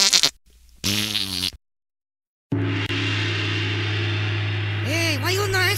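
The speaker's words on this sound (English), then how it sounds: "for the very first time ever, we bring you the Fart Phone" Novelty Fart Phone ringtone: a few short buzzy, wobbling fart noises broken by silence, then a long loud sustained raspy fart tone with rising and falling warbles at the end, with no talk.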